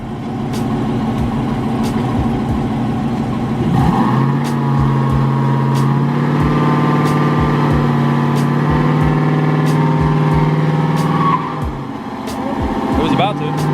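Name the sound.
car engine revving during a burnout attempt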